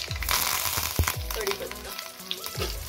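Mustard seeds, about a spoon and a half, sizzle and crackle in a heated pot for idli chutney tempering, a steady close frying hiss with sharp pops and a few low clanks.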